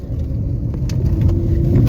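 A car driving along a hilly forest track near a farm, its engine giving a steady, close rumble that continues throughout with no talking.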